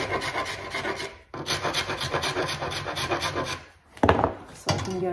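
A blade scrapes shellac off rattan furniture in repeated rasping strokes, near and fairly loud, with a brief pause partway and a short break before the last strokes.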